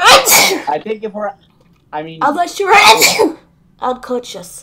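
A single sneeze from a player during a tabletop Dungeons & Dragons game session, loud and close, with people talking before and after it.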